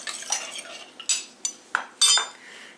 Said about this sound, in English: Now, one more stir.